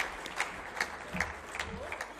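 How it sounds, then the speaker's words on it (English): A forum audience gives a round of applause: steady, fairly quiet clapping from many hands, heard at a distance and sustained evenly throughout. "round of applause for this man who's spoken beautifully"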